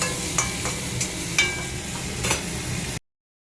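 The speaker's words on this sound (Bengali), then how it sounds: "টমেটোটা দিয়ে দেবো, এই এটা দিয়ে একটুখানি নেড়ে ছেড়ে আর একটুখানি ঢেকে দেবো" Tomato and chicken drumsticks stirred in a pan, with a steady soft sizzle and three or four sharper scraping strokes of the spoon spread across a few seconds, close and moderately loud.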